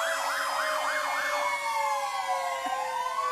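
A Frankfurt fire truck sounds its siren at a St. Patrick's Day parade in Utica, a loud, fast warbling wail that shifts into a long, slowly sliding tone, mixed with horn-like pitches and carrying over the street.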